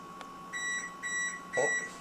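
A kitchen oven signals it has finished preheating with three short, evenly spaced electronic beeps, faint and thin over a quiet room hum.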